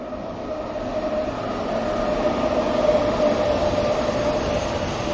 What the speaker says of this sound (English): the train is passing by.